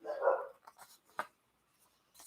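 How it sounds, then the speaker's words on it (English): Dogs barking indoors: one loud, full bark at the start, then a few fainter, scattered yips and short sounds, with quiet gaps between them. "My dogs are barking."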